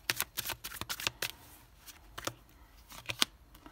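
Tarot cards being shuffled by hand in quick crisp bursts of riffling and flicking, separated by short pauses, close and fairly quiet.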